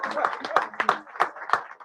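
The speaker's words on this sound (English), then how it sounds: "can we give a round of applause for Lerone's socks as well?" Audience applause after a talk by Dr. Lerone Martin about his book Young King, a short burst of close, scattered hand claps.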